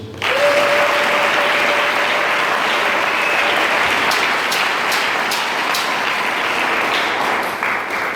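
A church congregation applauds steadily and loudly at a sermon on virtue, the clapping filling the space continuously with a few sharper claps standing out and no voices over it.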